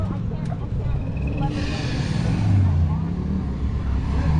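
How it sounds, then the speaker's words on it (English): Supercharged 370 car engine idling with a deep, chunky rumble at a ride-out gathering of cars and bikes, steady and close, with people talking over it. "And this 370, man, sounds chunky."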